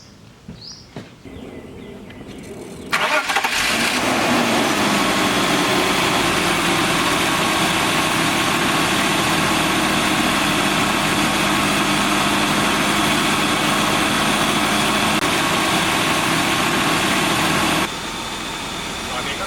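The six-cylinder engine of a BMW E39 523i cranks and catches after a few seconds, then settles into a steady, smooth idle that runs on close by.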